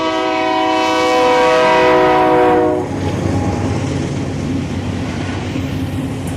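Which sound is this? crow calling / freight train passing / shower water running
freight train passing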